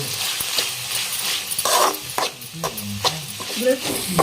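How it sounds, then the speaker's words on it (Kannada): Green chilli chutney mixture being stirred in a pan, with repeated scraping and clacking strokes of the spoon over a soft sizzle. The sounds are close and uneven, and no one speaks. "ಇದನ್ನ ಈ ಥರ ಮಿಕ್ಸ್ ಮಾಡ್ಕೊಳ್ಳೋಣ್ರಿ"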